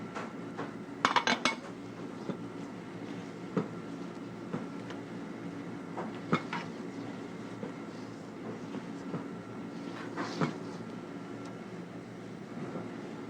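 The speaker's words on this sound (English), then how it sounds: "We'll then fold in our eggs," Beaten eggs folded into brownie batter in a mixing bowl, with soft clinks and scrapes of a utensil against the bowl over a steady kitchen background, a few louder knocks standing out.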